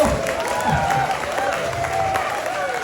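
Applause from an audience at a live Balinese stage performance, steady crowd clapping throughout with a musical tone and voices underneath.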